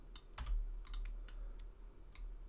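Single computer keyboard keystrokes in a quiet room: a few sharp, isolated clicks spread over a couple of seconds, close and clear with no talking.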